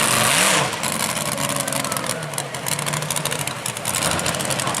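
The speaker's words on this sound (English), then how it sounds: "Sometimes not a good sign when your tires quit turning and the motor's still revving." A modified mini pulling tractor's engine revs hard at a prairie pulling event while the torque converter slips, a loud sustained roar with wavering pitch after a sharp opening burst.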